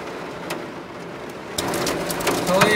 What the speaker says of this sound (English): hindi namin alam kung rain pa rin ba yun or hail kasi parang violent masyado